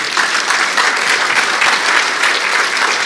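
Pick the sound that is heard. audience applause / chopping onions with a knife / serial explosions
audience applause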